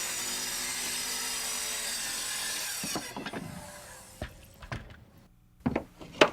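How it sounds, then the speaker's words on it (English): A power saw cutting a 3/4 stock wooden stair riser, a loud steady whine for about three seconds, then the blade spinning down amid scattered knocks and clatter of the board. "And here's a riser being cut."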